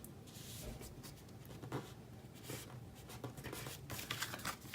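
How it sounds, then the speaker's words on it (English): Continuous dry scratching of a metal tool dragging across paper, with sharper rasping strokes here and there, close and steady, no voices. "the sound of that metal on paper is like nails on a chalkboard for me."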